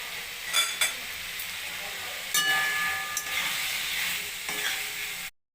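Potatoes and carrots sizzle and fry in hot oil in a pan over a medium flame, with stirring scrapes and clatter breaking through the steady hiss before it cuts off abruptly at the end.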